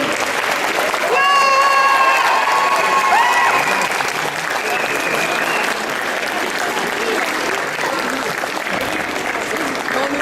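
Cosplay parade crowd at the Japanantes 2012 convention bursting into loud, sustained applause with shouts and cheers, a dense steady roar of clapping filling the hall throughout, with whistles and voices rising near the start.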